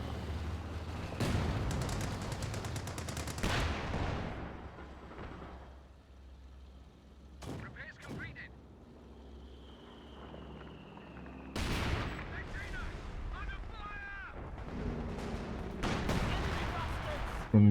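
Strafing gunfire from aircraft in a World War II strategy game, heard as bursts of rapid fire and explosive thuds that come and go among other battle noise, with players talking over it.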